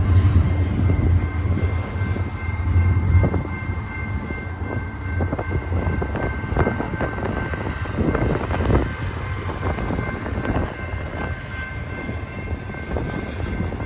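A long freight train rolls steadily through a canyon, a continuous heavy rumble with wheel clatter and rail squeal, loud and sustained throughout.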